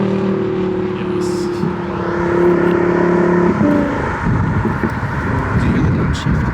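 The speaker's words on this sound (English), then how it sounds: "Did you hear the downshift?" A car engine at a supercar meet drops through a gear with a loud, sustained tonal roar that sweeps and shifts, then breaks into rumbling, burbling crackle, with people talking and the noise of a crowd around it.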